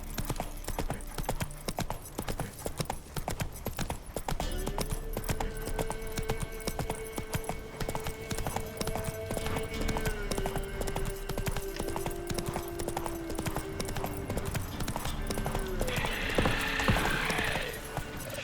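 Roach, the horse in The Witcher 3, gallops in steady clip-clop hoofbeats throughout, with a brief whinny and game music and effects layered over the rhythm.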